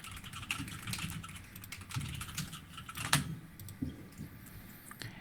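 Quiet typing on a computer keyboard: rapid, irregular key clicks, close but soft, with a sharper tap standing out partway through and no speech.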